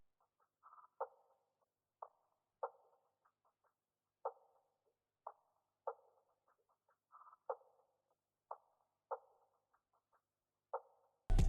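Pitched-down lo-fi percussion loop through a bandpass filter, giving a thin, narrow, vintage tone: sparse clicky hits in an irregular repeating pattern, quiet and alone, ending in a brief louder burst.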